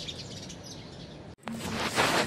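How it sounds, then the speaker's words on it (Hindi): Birds in a tree chirp and twitter in the morning with a dense, bright chatter. The sound cuts out briefly, then returns slightly louder, with no talking over it. "आप भी सुनिए चिड़ियों का कलरव।"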